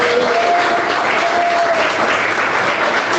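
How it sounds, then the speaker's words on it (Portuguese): A church congregation claps together in loud, dense, continuous applause, with faint voices mixed into the clapping. "Quem recebe essa palavra, bate palma e dá glória a Jesus"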